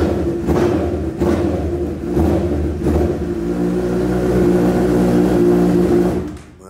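A Honda CB1000 motorcycle engine starts with a few sharp thumps, then settles into a steady, loud idling rumble that runs for several seconds before cutting off.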